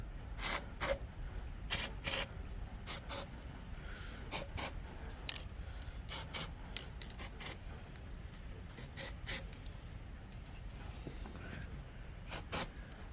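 Repeated short hissing bursts from an aerosol can of copper grease, spraying in quick pairs and clusters against a quiet background.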